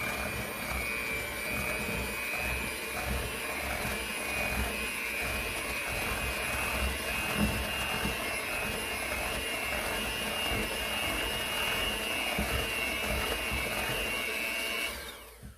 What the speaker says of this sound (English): we're just going to beat it until the eggs are combined